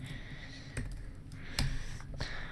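Typing on a computer keyboard during screen-pump editing work in After Effects, a few sparse, close key clicks over a low background hum.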